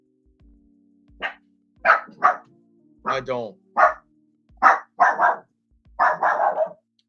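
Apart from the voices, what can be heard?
dogs barking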